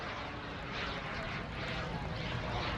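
FLS MicroJet, a tiny single-seat jet, passing across the field at about 220 knots during an airshow at Greenwood Lake: a steady, broad roaring whoosh that holds level throughout at moderate distance.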